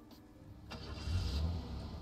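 A car engine starts up in a video game, a short crank followed by a low mid-pitched catch and a brief rev that settles, heard alone and fairly close.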